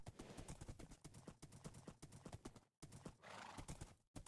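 Horse hooves clip-clop in the Minecraft video game with a steady, fast rhythm of close, clear steps, and a neigh is heard partway through, with no speech.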